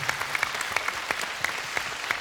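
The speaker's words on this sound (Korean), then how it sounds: "여러분 다시 한번 많은 박수를 부탁드리겠습니다" Studio audience applauding at a KBS music show, a dense spread of many hands clapping with sharp individual claps standing out, moderately distant and steady without talk.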